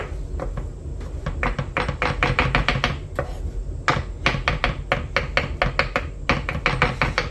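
Repeated sharp strikes of a big kitchen knife on a board while preparing leeks and spinach for a potato dauphinoise, coming in quick irregular bursts with short pauses, close and fairly loud, with no talking.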